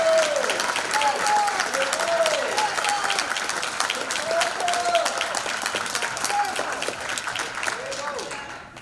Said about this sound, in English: Let's give Kamm Howard a big round of applause